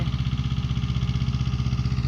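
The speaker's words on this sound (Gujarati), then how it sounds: "આ બાજુ ટ્રેક્ટર પાળી બાંધી રહ્યું છે" A tractor building field bunds runs close by with a steady, rhythmic diesel chug, loud and unbroken throughout.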